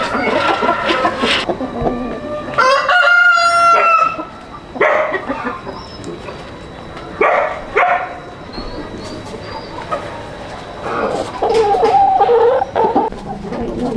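Hens clucking and calling in a Vietnamese farmyard, with a rooster's crow standing out among intermittent bird calls over steady background noise; bursts of loud, close poultry sounds recur throughout.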